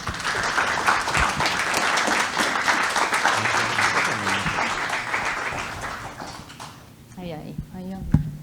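Sustained audience applause for a speaker receiving a certificate at a formal presentation, dense clapping over about seven seconds before fading out, with brief talk near the end.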